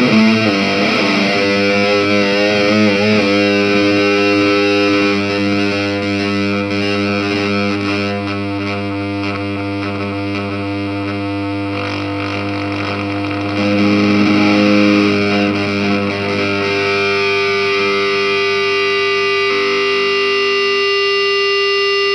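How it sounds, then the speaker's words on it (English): An electric guitar through a digital distortion pedal effect in Amplitube 3 software holds a sustained, saturated note that swells into singing feedback, loud and continuous with harmonic overtones and no voices. "can you really get feedback from a digital system? The answer is yes, and I'll show you."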